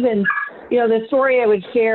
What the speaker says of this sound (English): you can hear my dog cheering in the background